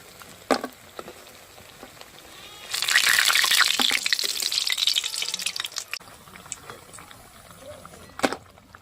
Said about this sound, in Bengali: দেখুন কত সুন্দর ভাজা হচ্ছে, দেখুন কুমড়ো পাতার পকোড়াগুলো দেখতে তো অসাধারণ লাগছে দেখতে